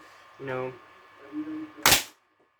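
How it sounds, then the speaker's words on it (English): A Caliburn foam dart blaster fires once at a wall, a sharp, loud close crack after a short spoken phrase and some faint handling, followed by quiet. "we're going to shoot it at the wall real quick. It's super loud, just like a normal caliburn."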